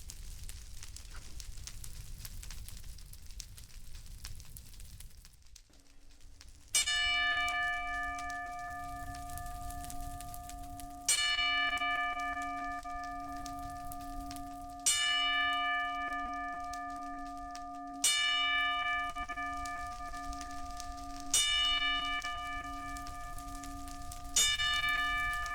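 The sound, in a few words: ten-bell salute tolling, wrestling show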